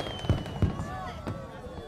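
Festival fireworks in an anime scene go off as a few muffled booms over crackling and whistling, and a voice speaks over them.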